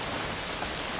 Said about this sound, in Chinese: 下那么大雨，还不赶紧回家